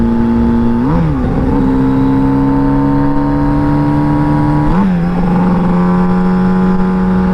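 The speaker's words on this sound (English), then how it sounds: "once it straightens out, I'm gonna drop it down into second." A turbocharged 100 hp Yamaha XJ650 cafe racer motorcycle accelerates hard, its loud engine whine climbing steadily, then dipping and rising again at two gear shifts. No one speaks.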